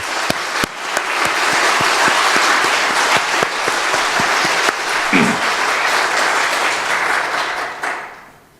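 A church congregation applauds together in a sustained, even round of clapping that fills the room for several seconds and then tapers off at the end.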